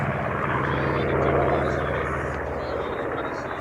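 A vintage warbird such as a B-25 Mitchell, F4U-4 Corsair, P-38 Lightning or P-51 Mustang roars overhead with a steady, loud propeller drone, and a voice talks over it.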